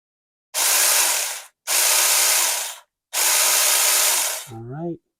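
A Saker mini electric chainsaw runs on battery power in three loud, close bursts of high whining motor and cutting noise, with short silences between them. It bites into a ficus stump about 2 to 2.5 inches across, ending with a brief lower whir.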